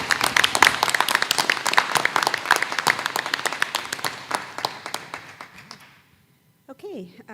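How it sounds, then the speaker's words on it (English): Audience at a CUSD200 school board meeting applauding students, a dense burst of many hands clapping that gradually thins and fades out, followed by a brief pause and a voice starting up. "One more round of applause for our students"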